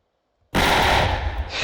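A massive centre-mounted gun on an F-18 Super Hornet in a Roblox game opens fire after a brief silence, a loud, sustained burst of rapid automatic gunfire that runs without pause to the end.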